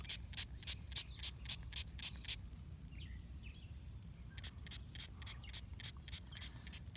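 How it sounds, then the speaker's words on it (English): Quick bursts of spray from a small mist bottle onto young fruit, a rapid run of short hisses, a pause, then another run, over faint outdoor background noise. "And you just spray it right on the young fruit."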